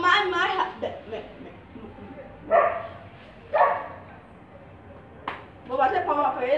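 A dog gives several sharp, separate barks at irregular intervals, fairly close, mixed in with a person talking throughout.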